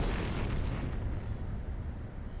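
An explosion blasts through a cave wall in a video game, a short, steady rumbling burst of low boom that gradually fades.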